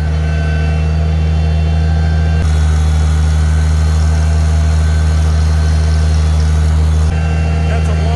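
Farmall 756 tractor with a rear blade plowing snow after a blizzard, its steady low diesel drone loud and close throughout, with a brief shift in load partway through.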